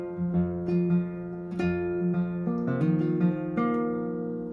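An acoustic guitar plays the opening measure of a song, a short sequence of picked single notes and open strings ringing clearly and alone, moderately quiet and close.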